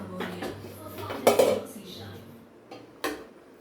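A ladle serves chicken gravy onto a plate, with a few close clinks and knocks of metal against crockery separated by short quiet gaps.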